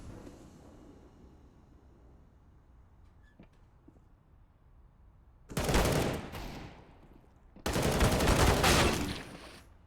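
Galil rifle spray in the video game Counter-Strike on the Overpass map: two loud, sustained automatic bursts, the second longer, follow a quiet stretch with faint distant sounds.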